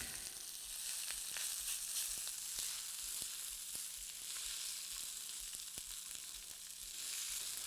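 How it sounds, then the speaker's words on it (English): Cooked rice being broken up while it fries in a pan with oil, a soft steady sizzle with regular light taps and scrapes of a utensil, faint and alone. "I'm gonna break all this up."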